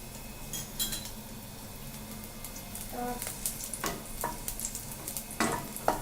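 Garlic sizzles and fries in hot oil with a steady crackling hiss, broken by a few clinks of a utensil against the pan.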